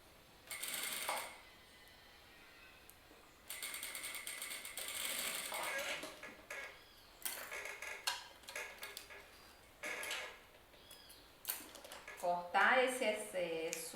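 A sewing machine stitches bias binding onto a corset in short mechanical bursts with pauses between runs, the clicking motor starting and stopping close by.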